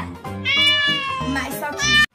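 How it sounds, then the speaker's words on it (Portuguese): A cat strolls through a forest and meows several times in quick succession, close and loud, each call a high, drawn-out whine. "Uma linda gatinha passeando pela floresta."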